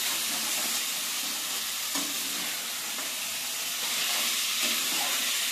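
Chicken fries in a pan, a dense, even hiss of hot oil and steam that holds steady throughout without talk.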